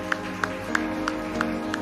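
Regular single hand claps ring out in a church, about one every third of a second, over a sustained tonal music bed with faint crowd presence.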